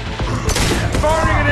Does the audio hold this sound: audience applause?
no